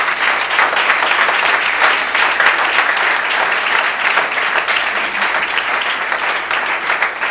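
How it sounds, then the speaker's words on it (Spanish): A church congregation applauds in a dense, sustained wash of clapping that stays steady and fairly loud throughout, with no voices standing out. "Dale ese fuerte aplauso a Jesús."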